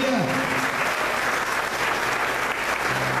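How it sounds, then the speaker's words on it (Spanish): Sustained applause rolls through a church congregation for a few seconds, dense and even, with a faint tone ringing briefly at the start. "Den un aplauso a Jesús por eso."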